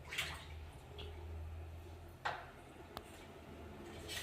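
Sliced potato chips swished and rinsed in a bowl of water, faint splashes and drips with a few sharper clinks, quiet and close, no voices.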